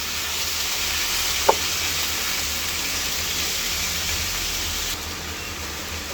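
Sweet pumpkin frying in a pan, a steady even sizzle and hiss with a single brief utensil tap early on, close and continuous without talk.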